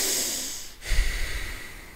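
A man sniffs or snorts sharply through the nose partway through, then breathes heavily in and out through it, close and fairly loud, alone.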